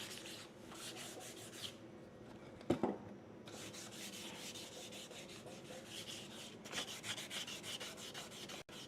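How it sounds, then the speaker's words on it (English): Wet sanding a War Machine suit part by hand: a steady soft rubbing and scraping that continues close and alone, with a brief sharper knock near the third second. "Wet sanding makes the biggest difference."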